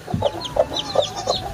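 Chickens in a backyard coop cluck in short repeated bursts, four or five calls spaced about evenly, fairly close and moderately loud over a faint outdoor background.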